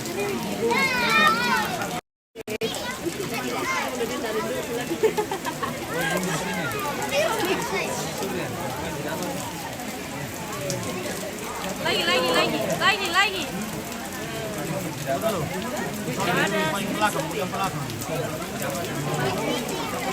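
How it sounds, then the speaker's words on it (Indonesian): Heavy rain pours steadily at a funeral gathering in Pangli, a dense continuous hiss of drops on surfaces heard throughout while people talk and chatter nearby over it. "Ya ini sudah hujannya deras-deras."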